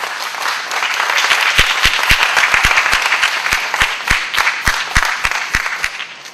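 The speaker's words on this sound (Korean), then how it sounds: "우리 다 같이 한번 박수를 칩시다" An audience at a Korean lecture bursts into applause, a loud wash of clapping with sharp individual claps standing out, sustained for several seconds before tapering slightly.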